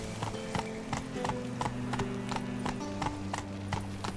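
Hooves of a horse in The Witcher 3: Wild Hunt clip-clop at a steady, brisk walking rhythm, close and clear over quiet background music.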